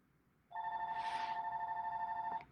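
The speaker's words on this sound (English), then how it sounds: "Sorry, that's my mom's phone." A mobile phone rings indoors: one steady electronic ring tone, a sustained buzzing trill with harmonics, starting abruptly and holding for about two seconds at moderate volume with no talk over it.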